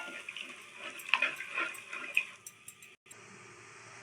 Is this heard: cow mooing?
no